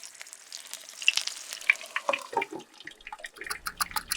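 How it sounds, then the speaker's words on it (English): Tomatoes frying in a pan give a close, crackling sizzle with scattered pops and bursts of spatter, steady throughout and with no voices. "Fry the tomatoes in the pan for 15 minutes."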